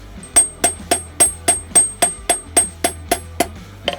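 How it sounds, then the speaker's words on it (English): A hammer strikes a hot Saxon arrowhead on the anvil about a dozen times at a steady, brisk rhythm, each blow a sharp ringing metallic clang, close and loud. "one more heat on there and I'll just take out the hammer marks"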